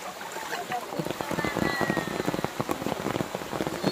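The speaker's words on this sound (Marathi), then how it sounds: "पाऊस आलाय" Steady rain falls outdoors in the Konkan countryside during a Gauri festival, a dense close patter drumming on a surface without a break, with faint voices in the background.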